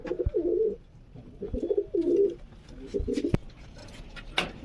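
Low-flying pigeons coo in repeated soft, throaty bursts close by, with a few sharp clicks and flutters between calls.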